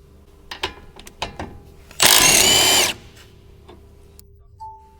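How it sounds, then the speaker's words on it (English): An impact wrench on a 12mm deep socket rattles off the brake hose bracket bolt on a Honda Civic FK strut: a loud, steady burst of about a second, after scattered clicks and taps of tools nearby. "use your 12mm deep socket with an impact to remove the brake hose bracket bolt"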